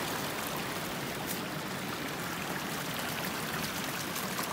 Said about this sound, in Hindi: ये देखें ये पानी का ये चश्मा